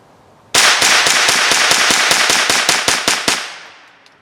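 Rapid string of about a dozen sharp, loud shots from an HK 416 D .22 LR carbine, fired in quick succession at close range before the sound decays into a fading echo.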